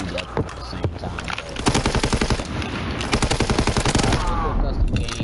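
Rapid bursts of automatic gunfire from a World War II video game, loud and dense, with repeated fusillades rattling through most of the clip.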